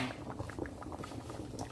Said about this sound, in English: So that's boiling.